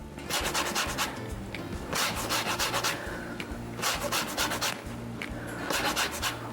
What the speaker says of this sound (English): Make sure when you zest your lemon, you don't rub off the white of the lemon.